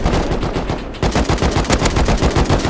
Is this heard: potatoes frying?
no